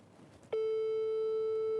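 A telephone busy signal plays on speakerphone as a steady, loud single tone that starts abruptly after a soft background murmur and holds to the end.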